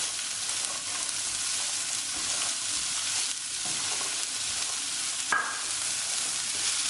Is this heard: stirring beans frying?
yes